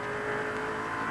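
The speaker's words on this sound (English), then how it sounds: "listen to that deep-throated roar of the engine. The big V8 as he sets out in pursuit of Moffat" Big V8 engine of the number 17 Ford Falcon racing at the 1984 Bathurst 1000, a deep steady roar held at close range without a break.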